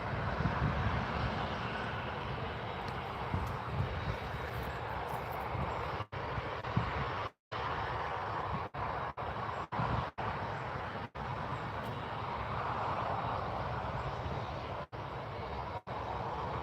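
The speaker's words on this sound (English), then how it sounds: "that's the Ryanair taxiing" A Ryanair airliner taxis at Newcastle International Airport, a steady, loud broadband jet-engine roar that holds throughout, broken only by brief dropouts.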